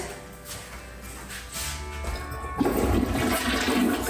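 A newly installed toilet in a tiny home flushes, starting with a soft hiss and rising into a louder rushing swirl of water heard up close.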